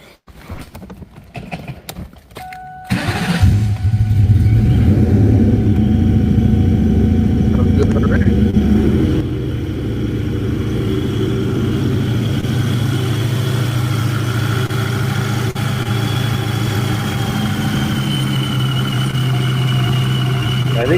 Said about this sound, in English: I was going to say, I hear a supercharger.